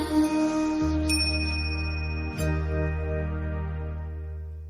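A bright bell-like ding rings out, followed by a second chime that sustains and slowly decays over a steady musical background.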